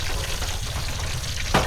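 A pot of rice comes to a boil, giving a close, steady bubbling and sizzling hiss with a short sharp clatter near the end.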